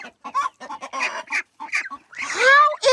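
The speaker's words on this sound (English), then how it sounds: "I think that's a rooster." Rooster and hens clucking in a baby aviary holding a turken, a run of short close clucks followed by a longer crowing call near the end.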